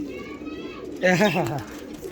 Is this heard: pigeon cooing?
yes